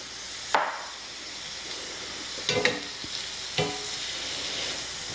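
Ham and onions sauté in a pot for New Orleans style red beans, a steady soft sizzle broken by a few sharp stirring knocks and scrapes close by.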